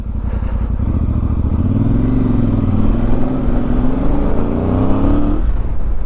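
Engine of a VOGE 800 DSX Rally motorcycle on the road, loud and close, its pitch climbing smoothly as the bike pulls from low revs, then dropping off sharply just before the end.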